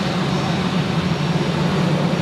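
A steady broadband roar from an airplane departing Zurich Airport on runway 28. It sounds fairly close and loud, holds constant for the whole stretch and has no speech over it.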